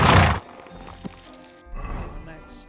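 In the video game Kingdom Come Deliverance II, a horse gives a loud, close neigh at the start, then a single hoof thud, followed by a rougher snort-like burst near the end, with a voice speaking over it.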